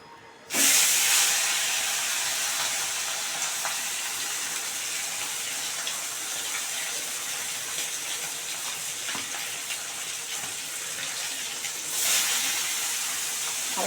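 Fish fry in hot white oil in a pan for a mustard fish curry, a loud steady hiss that starts abruptly and holds for many seconds, swelling again near the end, with no talking.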